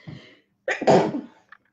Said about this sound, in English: And I promise you I had to sneeze.